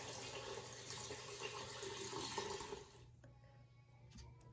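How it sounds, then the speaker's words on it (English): Water pours steadily from a tap into an Instant Pot over chicken, a rushing splashy flow that cuts off near the end, leaving a quiet room with light clatter. "So adding the water, and you wanna fill it until it's just covered"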